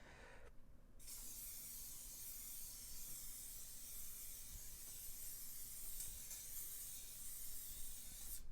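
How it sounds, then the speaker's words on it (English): Steady, close hiss of Sennelier workable fixative sprayed from a can onto Bristol smooth paper, one continuous blast lasting several seconds after a short pause. "I'm just going to spray this lower half with it."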